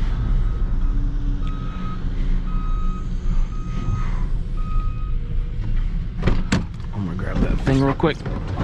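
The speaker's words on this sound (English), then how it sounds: "Ah, look at that truck." A truck reverses with its backup alarm beeping in evenly spaced tones, near and clear, over a low engine rumble; toward the end a person speaks and clattering knocks follow.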